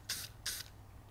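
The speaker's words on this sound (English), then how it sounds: "And we're gonna spray a little bit into a cup." Aerosol clear coat finish for guitar finishing sprayed indoors into a cup in two short hissing bursts, each about a fifth of a second, close and fairly quiet, with a low hum underneath.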